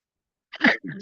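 A single sharp sneeze bursts out after a moment of silence, close to the microphone, followed by a brief vocal exhale.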